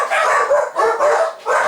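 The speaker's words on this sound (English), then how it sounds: "turns out that was the postman setting the dogs off" Several dogs bark repeatedly at someone at the door, a burst of loud, close woofs in quick clusters with short gaps between them.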